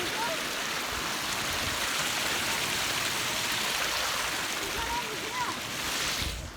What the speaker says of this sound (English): we just made it to the creek